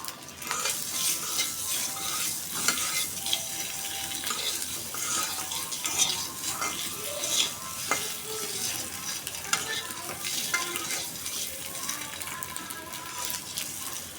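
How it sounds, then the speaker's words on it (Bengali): Eggs frying in a pan give a steady, dense sizzle that holds for the whole stretch, with occasional stirring and scraping on top and no talk. "এই ডিমগুলো ভেজে নিতেছি, আর একটু লাল লাল করবো"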